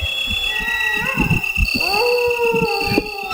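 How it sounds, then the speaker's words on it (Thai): Dog howls in the PS1 game Resident Evil: long wavering tones rise and fall over a steady electronic drone, with low murmuring voices beneath. "จะหอนทำไมอยู่เนี่ยเสียงโคตรหอน"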